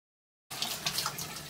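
After a moment of silence, water starts running to rinse a kitchen cabinet surface, a steady hissing spray with slight splashing fluctuations.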